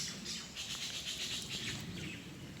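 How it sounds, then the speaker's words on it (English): Birds calling and chirping at Anini Beach on Kauai, a steady chorus of overlapping high tweets over soft outdoor ambience, moderately distant and continuous throughout. "You can hear the wildlife here, a lot of the birds."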